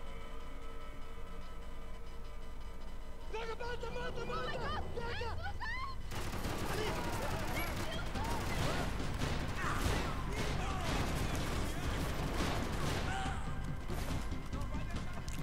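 Shotgun blasts from a Max Payne 3 firefight ring out as repeated sharp cracks and crashing impacts, dense and loud after a quieter stretch, with a voice talking over parts of it.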